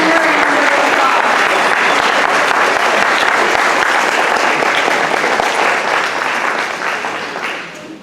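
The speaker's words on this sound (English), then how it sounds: "So let's give them a round of applause." A school-district community evening honoring local pioneers fills with steady, loud audience applause for a visiting family. The dense clapping holds throughout and eases slightly toward the end.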